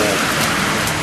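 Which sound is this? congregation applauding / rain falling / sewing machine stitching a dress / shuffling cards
rain falling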